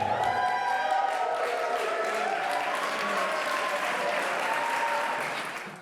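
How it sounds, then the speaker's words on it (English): Wedding guests at a reception at The Valley Regency in New Jersey applaud and cheer for the newlyweds, a dense, steady roar of clapping with some whoops and voices mixed in, holding loud throughout before tapering off at the very end. "Keep that applause going for Dana."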